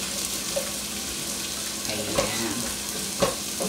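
Beef meatballs sautéing with garlic and onion in a pan, a continuous loud sizzle with a few stirring scrapes and knocks; a voice speaks briefly over it.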